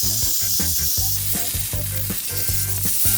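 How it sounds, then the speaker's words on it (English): Picanha steak sizzles on a gas grill, a close, continuous crackle with a pulsing, uneven texture throughout. "Now that we have our picanha rocking back here on the grill"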